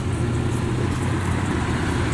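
A Camaro's 4.3 engine runs steadily at idle, a smooth, even low rumble heard up close and alone, with no talking over it.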